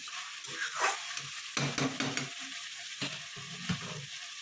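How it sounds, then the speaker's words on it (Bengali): Food sizzling in a pan with a few scraping stirs and clinks, close up and moderately loud, no talking; prawns being fried in ghee. "একটু ভাজা ভাজা করে নিই।"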